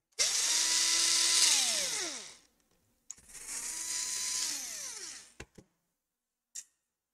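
A cordless power screwdriver backs out hard drive screws on a Lenovo Legion Y545 laptop, two long whirring bursts that spin up and wind down, followed by brief clicks and a short tap.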